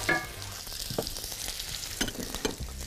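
Osso buco meat searing and being stirred in a very hot pan, a steady loud sizzle broken by scraping stirs, with no talk over it.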